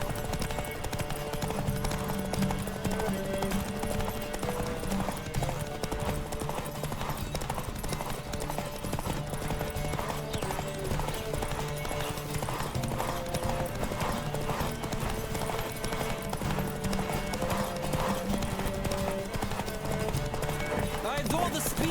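A horse gallops hard during a race in The Witcher 3, its rapid, pounding hoofbeats continuous and prominent throughout, mixed with game music and occasional voices speaking over the action.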